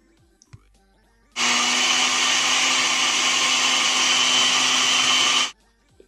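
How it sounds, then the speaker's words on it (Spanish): A blender grinds a gelatin mixture with melted chocolate for a gansito gelatin dessert, starting abruptly into a loud, steady whirring roar that holds for about four seconds and then cuts off into quiet. "Lo vamos a agregar el chocolate y lo vamos a llevar a moler."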